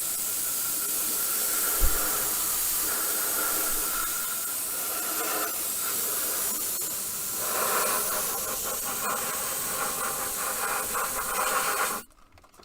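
Airbrush or spray can coating a 1/24 scale Airfix Spitfire Mk.IXc model in a thick layer, a steady close hiss running continuously for about twelve seconds before cutting off abruptly, with no talk.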